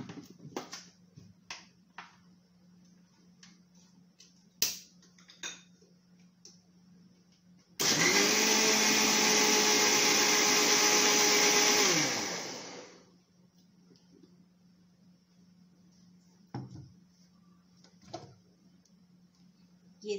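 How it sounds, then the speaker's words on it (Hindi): Mixer grinder blending caramel custard mixture, a loud steady motor whir of about five seconds that starts abruptly and winds down, with quiet room noise and light clicks before and after. "देखिए मैं एक बार चला लेती हूँ मिक्सी में।"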